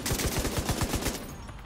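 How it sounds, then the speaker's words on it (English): Rapid automatic gunfire in the shooter Tom Clancy's The Division 2, about ten evenly spaced shots in a quick burst that stops abruptly. "I just keep popping shots at them every time they stand up."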